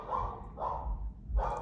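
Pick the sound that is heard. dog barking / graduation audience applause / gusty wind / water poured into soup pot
dog barking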